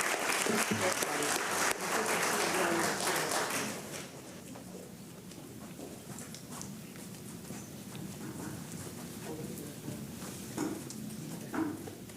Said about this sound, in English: Let's continue to clap to show some love to all of our young recipients this morning.